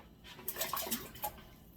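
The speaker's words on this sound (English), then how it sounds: "Cold water." Cold tap water runs into a cooking pot, a soft steady splash with faint gurgles over under two seconds, fairly quiet and close, with no talking.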